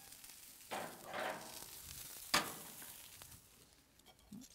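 Breakfast food including mushrooms, tomato and fried bread sizzling on the hot plate of an Infinity 5 burner barbecue, a faint crackling sizzle with a few scrapes and one sharp clatter.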